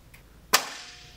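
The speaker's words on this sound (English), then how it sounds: "that sound that you just heard was the clamps actuating to begin the drain process to drain the waste" Pneumatic clamps on a Biolytic Dr. Oligo synthesizer actuate to drain waste with a single sharp snap, followed by a short hissing tail and a faint click, close and otherwise quiet.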